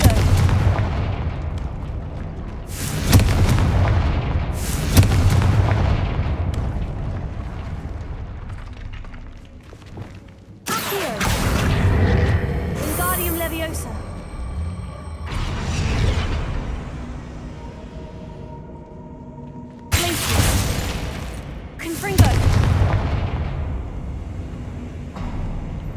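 Confringo explosion spells from the Hogwarts Legacy video game fire as repeated heavy booms, each a sharp blast that rumbles away, about six in uneven succession. Magical chimes and effects ring between them, and a character shouts spells now and then.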